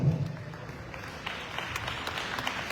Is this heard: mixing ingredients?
no